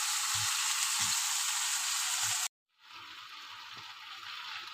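Shuting fish frying in hot oil with spices for a spicy jhal curry, a steady loud sizzle with faint stirring taps that cuts out briefly, then resumes as a slightly softer continuous sizzle.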